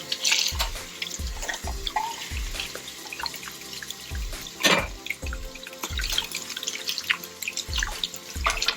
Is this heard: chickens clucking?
no